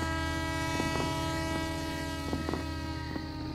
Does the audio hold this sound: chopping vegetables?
no